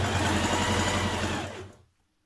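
A sewing machine runs a small zigzag stitch through lightly stretchy cardigan fabric, a steady close whirring motor that winds down and stops near the end, leaving silence.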